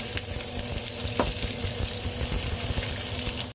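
Ginger and onion for adobong atay at balunbalunan fry in a pan, giving a steady, close, broadband sizzle that holds at an even level throughout, with one brief sharper crackle partway through and no talking.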